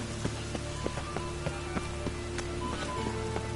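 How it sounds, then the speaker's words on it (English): Rain falls in the video game The Witcher 3: a quiet, even patter of drops with faint scattered taps over a soft steady background. "And it's raining again."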